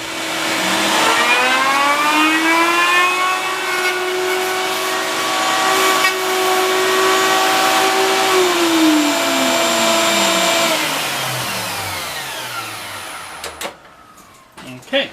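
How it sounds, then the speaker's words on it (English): A router spins up and cuts a groove in a round wooden window sash, a loud, close, sustained whine that holds steady, then winds down to silence near the end. "the excess is removed by the router bit on the second pass"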